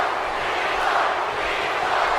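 A wrestling arena crowd in the WWE 2K18 video game roars as a steady, dense wall of cheering, loud and unbroken throughout.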